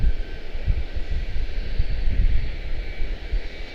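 Jet airliner engines rumble steadily at a distance on departure from Charlotte-Douglas International Airport, a broad low roar that holds throughout with no voices.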